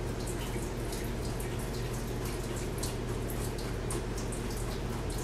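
Lobster bisque swirled with a spoon through a strainer, giving a steady, close liquid wash and trickle that runs unbroken throughout, with no talking.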